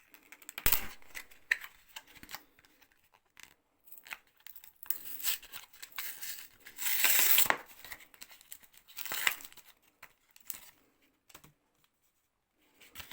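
Pokémon Évolution Céleste booster packs are torn open by hand, with sharp foil rips, crinkling wrappers and shuffling cards in close, irregular bursts separated by quiet gaps.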